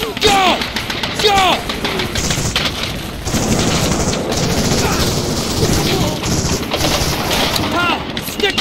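Covering gunfire in the D-Day beach assault of Medal of Honor: Allied Assault, with dense, continuous rifle and machine-gun bursts, explosions and shouted voices throughout, loud and chaotic.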